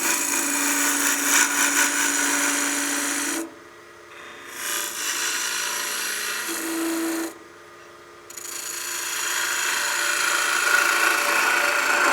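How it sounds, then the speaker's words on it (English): A skew chisel makes a peel cut on a wood lathe, shaping a tenon while turning a wine glass: a steady, close scraping rasp with two brief pauses where the tool lifts off the spinning wood. "I'll be using my skew as a peel cut here to give ourselves a tenon for the chuck."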